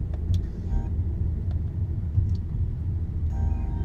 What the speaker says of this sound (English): traffic has just been a mess the past 2 days